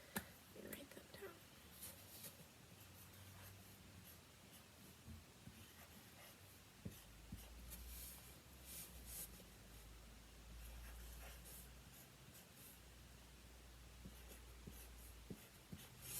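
Marker or pen writing practice addition problems by hand on a board during a math lesson, a steady faint scratching with soft taps, close and quiet with light room noise and no speech over it.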